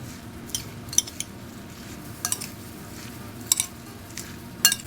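Pulled smoked pork loin is mixed with coleslaw dressing in a bowl: faint, sparse utensil clinks and scrapes come at irregular intervals over a low steady background, close by, with no talk.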